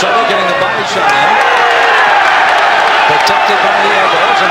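Boxing crowd in Paris roaring and cheering during a fight, a dense, loud sustained wall of voices and whoops filling the arena, with a commentator talking over it.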